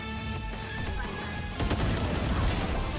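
Rapid gunfire in the tactical shooter Valorant, likely from a Vandal rifle, with a light crackle of shots that grows into a denser, louder burst of automatic fire partway through, under a busy game soundscape.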